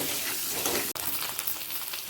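Eggs frying in a pan for egg curry give a steady, close sizzle that hisses on without a break, with only a brief dip partway through.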